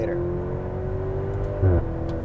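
A Maserati Grecale Modena SUV engine hums at a steady moderate rev without full throttle, with a faint rise in pitch and a brief low burst near the end, while people talk nearby.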